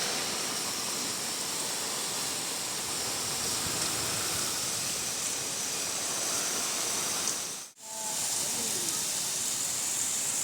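Floodwater flowing through village paddy fields and roads in Kankavli after a cloudburst makes a continuous loud rushing hiss, broken by one brief dip near the end.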